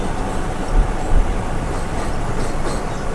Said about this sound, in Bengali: গৌড় এক্সপ্রেস ফারাক্কা ব্যারেজের ওপর দিয়ে যাচ্ছে।